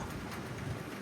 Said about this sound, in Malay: Di hari ketiga ni hujan.